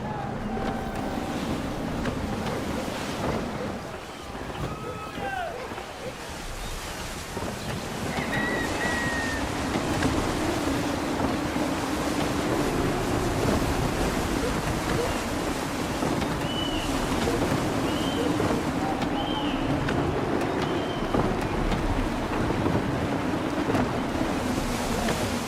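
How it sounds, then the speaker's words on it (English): Gusty wind and rolling ocean waves surround a sailing ship in Assassin's Creed III, a steady broadband roar of wind and surf that swells louder after the first few seconds and holds continuously, with no voices. "Gusty winds can be difficult to manage."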